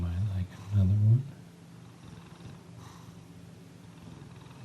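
A sleeping cat on a desk purrs while being gently brushed. The low, rumbling purr is strongest at the start, then gives way to soft brushing noise, with a quiet voice speaking close by.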